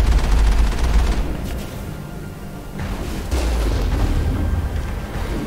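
Heavy turret fire in the video game Mass Effect, loud rapid bursts and booming impacts in dense volleys, with one brief lull before the barrage resumes.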